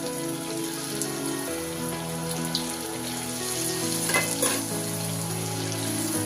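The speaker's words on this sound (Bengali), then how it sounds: "এবার আমি একটা একটা করে পাপড়ি তেলের মধ্যে দিয়ে দেব।" Papri dough wafers deep-fry in hot oil over a low flame, producing a steady, close sizzle with a fine crackle throughout, alone and with no voices.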